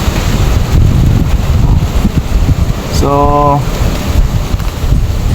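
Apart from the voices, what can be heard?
wind blowing across a rice field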